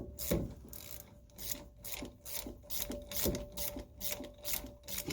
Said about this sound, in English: I'm just kind of pushing that slide bolt out off the bridge that holds the caliper to it.